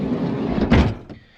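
A camper van door is pulled shut with one solid thunk and a short slide before it, close and fairly loud, followed by a faint click and quiet.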